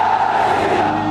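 A dense crowd shouts a chant together outside a demolition site, a loud continuous roar of many voices across the whole moment.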